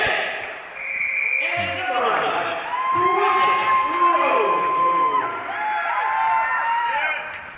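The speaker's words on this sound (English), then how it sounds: "the crowd is getting into it" A hockey crowd cheers and shouts as the home team rallies in a 5-4 game between the West Michigan Sentinels and Northern Michigan Warhounds. Loud, sustained arena roar with whoops and rising yells throughout.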